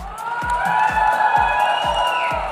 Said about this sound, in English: A big round of applause for my team.